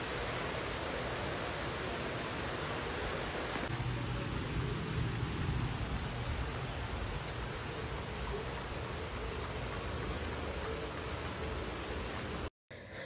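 Heavy rain falls outdoors in a thick, unbroken roar, steady and fairly loud throughout, with a faint low rumble underneath, then a brief dropout near the end.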